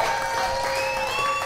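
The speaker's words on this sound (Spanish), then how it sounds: "Un aplauso para Aarón Rosales y David Acosta." Crowd applause and cheering at a rap battle event, a dense, loud burst of clapping with whistles on top, brief and continuous.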